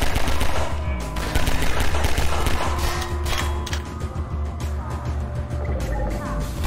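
Gunfire in Half-Life 2 with RTX: rapid automatic bursts crackle over a loud, dense background of combat noise, with a voice speaking through part of it.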